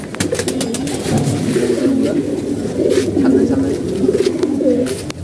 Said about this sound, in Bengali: তো আমাদের কবুতর এগুলো আছে